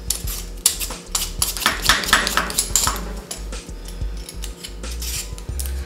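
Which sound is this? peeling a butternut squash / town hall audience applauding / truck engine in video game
peeling a butternut squash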